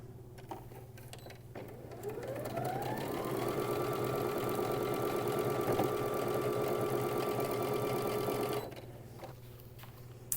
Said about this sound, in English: And we're going to stitch that together.